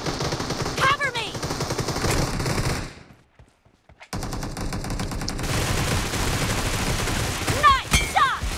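Rapid automatic gunfire from the PUBG battle royale game rattles in loud, dense bursts, cutting out briefly for about a second before the firing resumes just as intensely.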